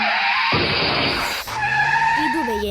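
Car sound effect laid over a stop motion animation: a loud tire skid rushes in after half a second and holds, then gives way to a higher whining engine or tire tone, with voices talking underneath.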